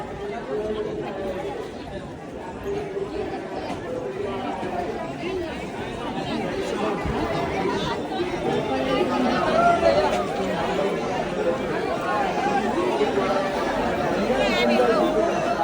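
A dense crowd of pilgrims chatters without pause at the new-moon fair at the Adamapur shrine, a loud, close babble of many overlapping voices that grows slightly busier toward the end.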